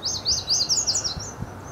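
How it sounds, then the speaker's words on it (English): Songbirds chirp in quick, high, repeated phrases, clear and fairly close, with a few soft low thumps beneath and no voices. "helps identify bird songs automatically"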